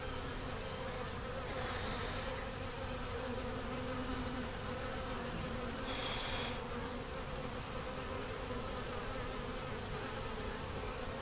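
Honey bees buzz at a hive in a four-frame nuc, a steady dense drone of many insects that holds at a constant level throughout, with no talk.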